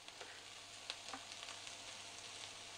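Pakoda fritters frying in hot oil for a vada curry, a soft steady sizzle with faint crackling pops throughout, fairly quiet and with no voices.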